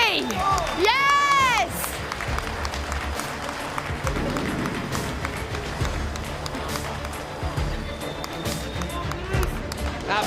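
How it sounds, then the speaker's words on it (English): At the FIFA eClub World Cup 2020 final, a crowd applauds and cheers for the winners in steady, dense clapping and shouting, with a shrill whistle-like swoop early on and a commentator's voice over the top. "Round of applause, everyone. Let's give a big cheer for our winners."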